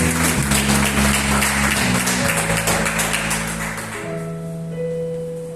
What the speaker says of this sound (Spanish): Cuando le damos un aplauso por eso, aleluya.